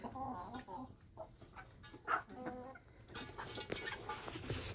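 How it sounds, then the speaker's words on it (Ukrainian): A broody black hen clucks in low, repeated bursts at close range, with a few sharper calls from nearby chickens in a farmyard coop. "А тут у нас іще одна квочечка сидить."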